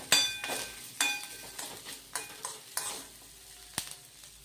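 Grated coconut frying in a pan for laddoos, with a steady crackling sizzle and about eight regular scraping stirs of a spatula against the pan, close and moderately loud, with no talk.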